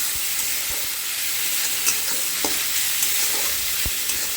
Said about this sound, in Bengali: পেঁয়াজটা দিয়ে খুব ভালো করে নাড়াচাড়া করে ভেজে নেব